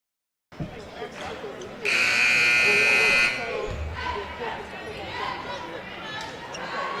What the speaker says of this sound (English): The buzzer calling players back to the floor.